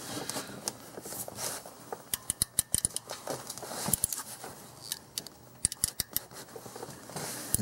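A spark plug is worked out of a front cylinder of a 2001 Infiniti QX4 3.5L engine, giving a series of close, sharp creaking and squeaking clicks in an irregular ratchet-like rhythm.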